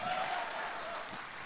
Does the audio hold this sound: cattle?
no